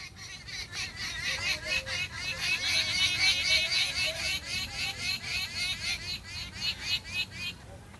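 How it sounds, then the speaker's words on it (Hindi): Many birds chirp and twitter together in a biodiversity park in Jaipur, a dense steady chorus of overlapping calls with a low hum of distant traffic and murmuring beneath it. "बहुत सारे पक्षियों के चहचहाने की यहाँ पे आवाज़ आपको"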